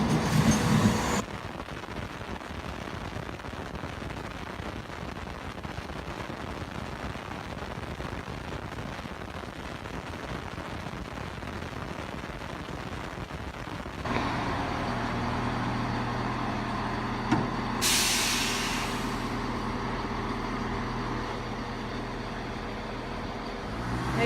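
Class 170 diesel unit 170431 at Kirkcaldy station at night, working a Dundee to Edinburgh Waverley service, with a steady rumble from the start that gives way to a louder engine drone and tonal hum with a brief hiss near the end.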